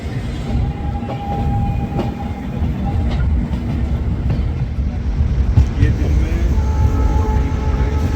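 A passenger express train rolls along at speed while overtaking the stationary North East Express. A continuous loud, rumbling roar carries faint wheel clatter throughout, and no voice is heard.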